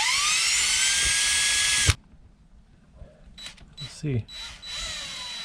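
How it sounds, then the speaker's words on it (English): A power drill bores through an RV furnace duct fitting with a loud, steady whine for about two seconds, then cuts off abruptly, leaving faint clicks and brief speech. "Just make sure this is drilled just through."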